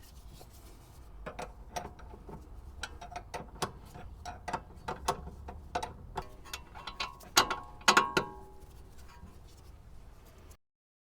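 A ratchet clicks in short irregular bursts while tightening drop link bolts on the front anti-roll bar of a 2006 Audi A4 B7 1.8T, crisp close ticks with a few louder metallic clacks, then silence.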